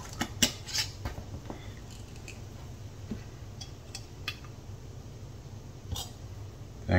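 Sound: handling canning jar lids for pickled jalapeños

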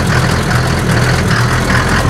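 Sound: Mercedes 310 T1 van diesel engine idling roughly

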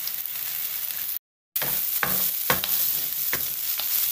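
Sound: sautéing pepper, garlic, green onion and parsley in pan

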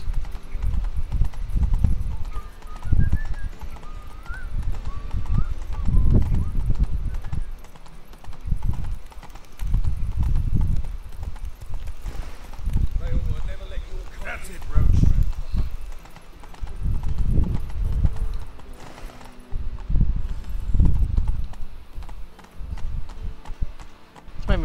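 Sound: horse galloping in video game The Witcher 3

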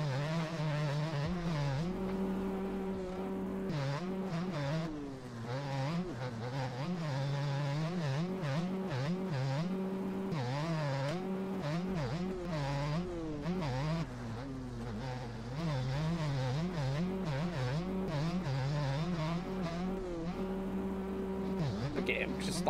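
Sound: KTM motorcycle engine in a video game

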